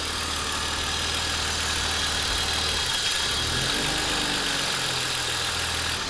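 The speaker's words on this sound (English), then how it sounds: "after I unplugged it, the idle completely stabilized itself." An old BMW car engine idles steadily nearby with the mass airflow sensor unplugged, a continuous low rumble with a brief dip partway through before settling back to an even hum.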